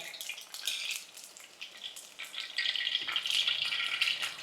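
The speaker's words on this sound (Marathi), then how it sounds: "एक दोन मिनिटात फ्लावर पण फ्राय करून झालाय बघा हलका सोनेरी रंग आलाय" Cauliflower florets fry in a pan until lightly golden, a crisp crackling sizzle mixed with light rattling that swells louder in the second half.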